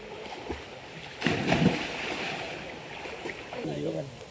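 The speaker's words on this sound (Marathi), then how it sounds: "हे पाण्याचा उलट पोहता." People swimming in open water at Malgund, splashing close by in uneven bursts, with a louder splash around the middle, while voices chatter and call out over the water.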